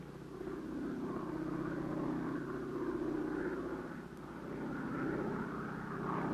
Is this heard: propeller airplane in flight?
yes